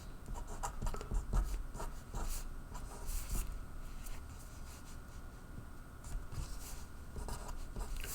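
A marker or chalk scratching and squeaking on a board during a logic lecture, with continuous scratchy strokes and small taps over a steady room hiss and no speech.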